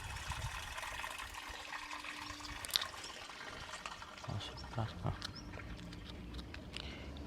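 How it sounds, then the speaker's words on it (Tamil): Water flows and trickles quietly in the distance below an Austrian Alpine village, a constant gentle wash with occasional faint splashes and knocks. "கீழே அந்த தண்ணி ஓடுற சவுண்டு கேட்கும்னு நினைக்கிறேன் உங்களுக்கு"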